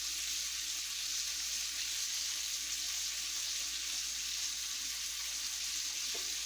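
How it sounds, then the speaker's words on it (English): Onions caramelizing in the pot that will hold a beef stew give a steady, even sizzle and hiss that carries on without a break and without voices. "I'm going to caramelize the onions in the pot that I'm actually going to cook the beef stew in"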